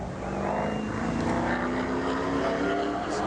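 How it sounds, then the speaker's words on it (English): A NASCAR race car engine at Sears Point road course during 2001 pole qualifying, a loud sustained roar with a shifting pitch as the car passes, heard continuously for a few seconds. "Listen, if we got the engine sounds, and watch."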